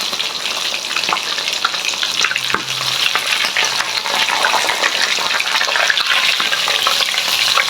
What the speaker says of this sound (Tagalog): Yan ang mga busnoy, piniprito na natin.